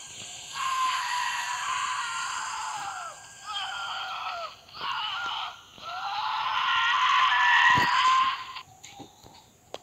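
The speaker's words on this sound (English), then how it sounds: "I heard screaming." Loud, sustained screaming from a character in the Roblox game Infinite Road Trip, breaking into several long bursts with brief pauses over about nine seconds, heard alone without talk.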